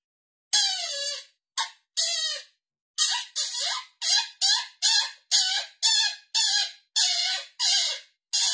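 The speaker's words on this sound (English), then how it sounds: "that almost sounds like a live rabbit" A Boss Mayhem Pak electronic coyote call plays a loud, close series of about a dozen shrill, rabbit-like squeaks in short, uneven bursts separated by brief silences.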